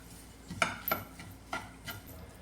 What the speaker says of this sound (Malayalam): ഇനി ഇതെല്ലാം കൂടെ നന്നായിട്ടൊന്ന് മിക്സ് ചെയ്ത് കൊടുക്കാമേ